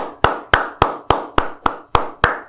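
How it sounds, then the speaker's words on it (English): Eight sharp, evenly spaced claps ring out close and clear, a single person's hands in steady rhythm at a community breakfast honoring Adrian. "Let's give Adrian a round of applause."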